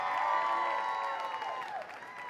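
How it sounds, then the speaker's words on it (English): Crowd applause with some cheering fills a fight venue after three rounds of amateur fighting at Lucky Strike, steady and moderately loud before slowly thinning out. "let's get a nice round of applause out here for both of these fighters"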